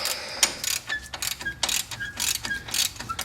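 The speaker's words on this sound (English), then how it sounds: "Gonna ratchet it now." Rapid clicking of a hand ratchet tightening a bolt during a car brake rotor replacement with tapered roller bearings, several quick bursts of close metallic ratcheting with short pauses between strokes.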